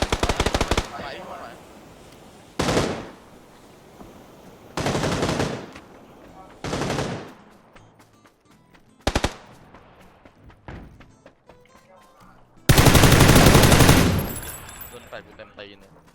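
Gunfire in the video game PUBG, with several loud bursts of automatic fire separated by pauses, one long final volley, and quieter clatter and thumps between them.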